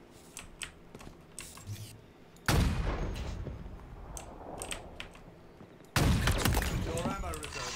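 Sniper rifle shots in Halo Infinite multiplayer: two loud, sudden booms a few seconds apart, each trailing into a long rumbling decay, among quieter clicks and game noise.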